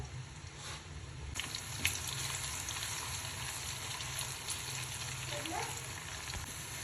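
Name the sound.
onions frying in oil until light golden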